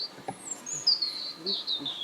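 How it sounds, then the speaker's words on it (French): Small birds chirp in a garden, with thin high twitters and short calls scattered through quiet outdoor air, faint and fairly distant, with no talk. "Et les oiseaux sont pas affolés, ça va."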